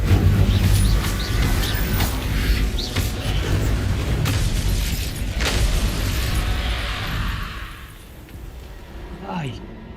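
An Incendio fire spell cast in Hogwarts Legacy gives loud whooshing bursts and booms in the first half, fading to quieter effects near the end, with someone talking over it.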